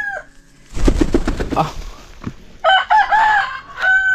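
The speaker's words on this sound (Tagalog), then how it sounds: "Ito na yung manok namin ngayon dito" Chickens on a backyard farm cluck in a loud close burst, then a rooster gives a full ringing crow and a shorter one follows, all near and clear.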